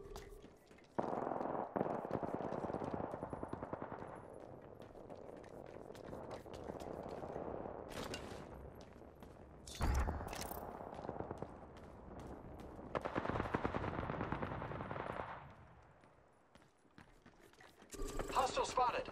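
Automatic weapon fire in the shooter game Apex Legends comes in repeated loud bursts over a steady background, with in-game voice callouts between the volleys.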